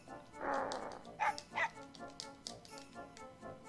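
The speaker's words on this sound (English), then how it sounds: "The dog looks scared, actually." In the Mega Man Legends video game, a dog gives a few short, faint yips and whimpers over quiet game sounds, with scattered light tapping noises throughout.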